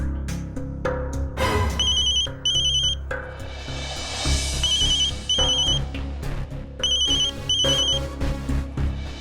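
A telephone rings with bursts of high electronic ringing tones layered over dramatic background music and a swelling whoosh, repeating several times.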